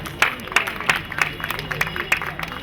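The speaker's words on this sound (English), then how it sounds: "A round of applause for them." Scattered, modest applause comes from a gathering at a Red Cross health and safety week event, sparse individual claps in an uneven rhythm that thin out over a few seconds, with faint talk in the background.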